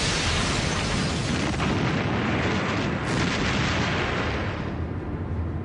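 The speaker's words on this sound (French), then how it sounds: "C'était une tempête d'éclairs, de bruit et d'explosions quand les torpilles touchaient les navires." Loud, dense rumbling blasts of explosions roll continuously, a heavy booming wall of noise with no voices.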